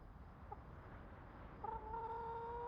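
Chickens in a medieval fantasy game world clucking faintly, a short cluck early then a sustained tonal call near the end over quiet background noise.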